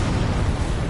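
A loud, dense explosion rumbles in the game Elden Ring, a single continuous burst filling the whole second.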